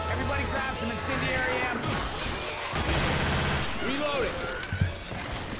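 Rapid incendiary-bullet gunfire in Left 4 Dead 2, a dense continuous burst of shots with crashes and clatter mixed in, loud and close, under someone talking over the action.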